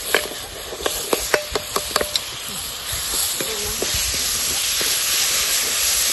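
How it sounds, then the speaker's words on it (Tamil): Ginger garlic paste fries in a pan for a ghee rice dish with a loud, steady, close sizzle, preceded by a few sharp clinks of a utensil against the pan. "இஞ்சி பூண்டு பேஸ்ட்டு நல்லா பொரியும் போது"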